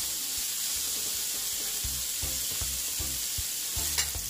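Shrimp fry in hot oil in a pot, a continuous close hiss and sizzle with a few soft knocks of stirring, no voices over it.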